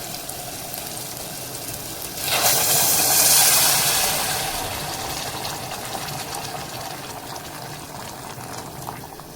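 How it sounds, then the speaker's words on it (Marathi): Heated water poured into a pot while cooking khichdi with rice and dal, a steady hiss and gush that swells briefly and then settles into a continuous bubbling, steamy wash, close and with no talk. "डिरेक्टली आपण यामध्ये ऍड करणार आहोत पाणी."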